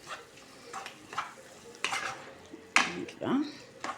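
Food being stirred in a frying pan with tomatoes, with soft scraping and clinking strokes over a low sizzle, several separate stirs spread across the moment, fairly quiet and close.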